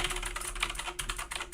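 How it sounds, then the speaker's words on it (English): Clicky keystrokes from a mechanical keyboard that sounds like a typewriter, typed in a fast, steady stream close to the mic with no talking. "That's my mechanical keyboard, and it actually sounds like a typewriter."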